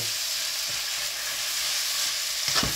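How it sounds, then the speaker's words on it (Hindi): Minced keema and chopped ginger fry in a pan for aloo keema, giving a steady close sizzle throughout with a brief stirring scrape near the end. "अब मैं अच्छी तरह इन चीज़ों को मिक्स करूँगा।"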